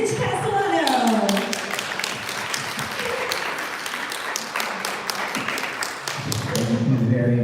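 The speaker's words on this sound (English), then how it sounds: "please give a big round of applause to Dr. Rich Castellano" A seminar audience bursts into sustained applause for a facelift surgeon, with dense crisp clapping that fills the room and holds steady throughout, while voices talk over it and louder near the end.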